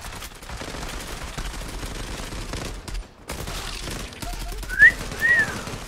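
Rapid gunfire from the online shooter Zula, a dense steady spray of shots with a brief gap near the middle, then a couple of sharper whistling impacts near the end.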